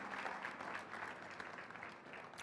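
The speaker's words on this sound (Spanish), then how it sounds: "Denle un aplauso fuerte a Dios para comenzar" A church congregation applauds, with a dense, even wash of many hands clapping at a moderate distance and no voices over it.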